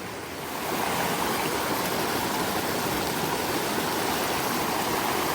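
A mountain stream along a hiking trail on Mount Marcy rushes steadily and loudly up close, a constant broadband wash of water that swells in over the first second and then holds.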